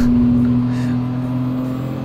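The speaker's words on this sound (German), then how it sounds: "Aber der Turbolader hört sich an wie ein großer." Steady engine drone with a strong sustained whine, a small race car's turbo spooling in Gran Turismo 7, continuous and fairly loud throughout.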